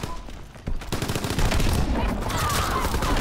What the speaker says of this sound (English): Oh, got sniped!